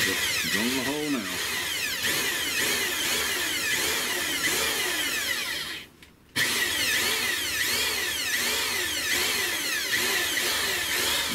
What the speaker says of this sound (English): Drilling the hole now.